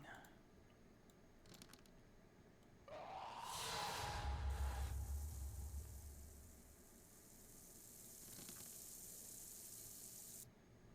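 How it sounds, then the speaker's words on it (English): Water runs from a faucet in the horror video game Ghostbane, a steady hissing stream that swells loudly for a few seconds, eases off, then continues more softly in the background. "Turn that faucet off"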